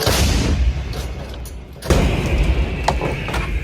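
A howitzer fires with a loud booming blast, followed by rumbling echo and outdoor noise.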